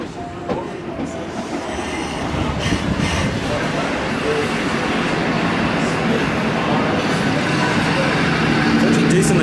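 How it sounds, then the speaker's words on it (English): A passenger train rolls in close by at a platform in Broken Hill, outback New South Wales, a loud rumble of wheels on rails building steadily, with a faint squeal and people talking underneath. "Here's the train."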